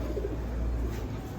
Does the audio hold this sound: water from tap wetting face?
no